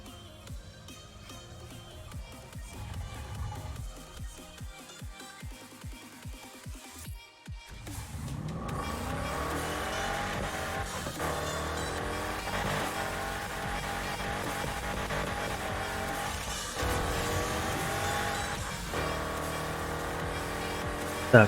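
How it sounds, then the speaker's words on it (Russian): In the racing video game Need for Speed: Heat, a car engine revs and roars with harsh exhaust tones, rising through repeated gear changes. A voice briefly speaks under the engine noise near the start. "нужно сменить, поднастроить звуки выхлопа. Они просто уже убивают мои уши."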